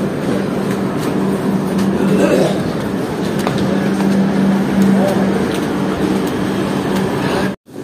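A crowded general class coach on a passenger train running between Rangapara North and Kamakhya near Guwahati, with a loud, continuous rumble and rattle of the moving carriage, a steady low hum, and a brief cut near the end.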